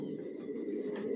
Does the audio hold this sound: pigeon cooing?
yes